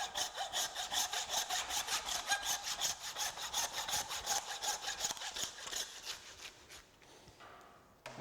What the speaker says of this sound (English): we get the handsaw and saw through